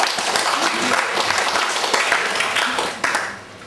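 Participants at an outward bound training session for a university clap together in a loud, dense burst of applause that holds steady, then dips and fades toward the end.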